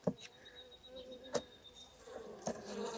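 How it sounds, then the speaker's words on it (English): Robber honey bees buzz steadily around the listener at a hive, with a few louder passes close by and a soft hum in between. "These are robber bees."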